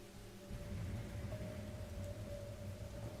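Steady rain with a low thunder rumble fills a game scene in Rain Code, a dense continuous wash that swells after a quiet start and holds level with no voices.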